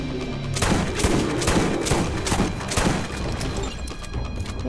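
Rapid bursts of video game gunfire hit a Rakk Hive in Borderlands, repeated loud shots and impacts following one another over a few seconds, with no talk.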